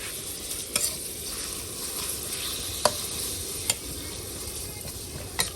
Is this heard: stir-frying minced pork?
yes